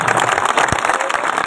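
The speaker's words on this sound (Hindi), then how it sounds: "ताली, जोर से ताली बजाइए।" Audience clapping at a Jan Suraj political rally in Bihar, a dense steady burst of applause from a crowd, loud and continuous throughout.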